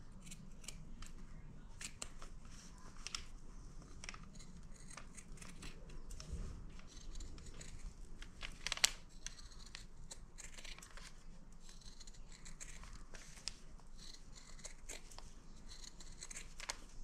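Scissors snip steadily through fabric for a fruit-shaped potholder, a run of close, crisp cuts with faint rustling of cloth between them and no talking.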